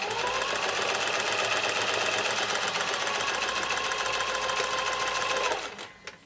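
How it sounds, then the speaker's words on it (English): A sewing machine runs steadily, stitching quilt fabric for an economy patch block, with a fast, even mechanical whir that stops abruptly near the end. "And then start stitching."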